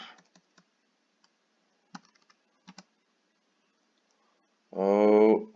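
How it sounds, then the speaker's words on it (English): Brief clusters of key clicks from typing a terminal command on a computer keyboard while installing Kubernetes on Ubuntu, sparse and fairly close, followed by a short burst of a louder voice-like sound at the end. "And then we're gonna type swap"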